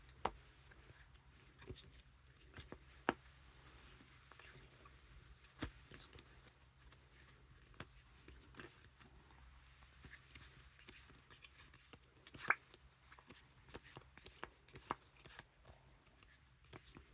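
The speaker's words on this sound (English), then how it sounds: "Now on to some packet cuts." Soft, steady riffling and clicking of Stay Alive playing cards being cut in packets, a continuous quiet patter with occasional sharper snaps, close up and with no talking.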